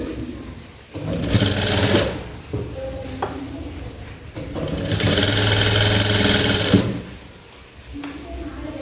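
Sewing machine stitching a round belt, running in two loud sustained bursts of roughly a second and two seconds, with quieter pauses and faint handling noise between them.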